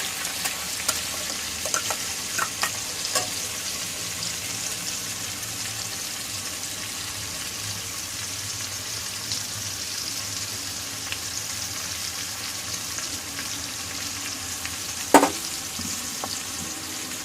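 Green beans frying in a pan with mustard and chili paste, salt and turmeric, giving a steady low sizzle throughout with a few small clicks and one sharp utensil tap near the end, no voices.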